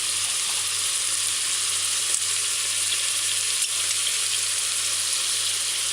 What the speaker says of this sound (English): stir fry it quickly, kind of brown the pork stew pieces